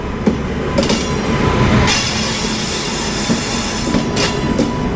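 The Charminar Express to Tambaram, hauled by locomotive 30441, rushes past close by with loud rolling wagons, rhythmic clickety-clack over rail joints and intermittent wheel squeal.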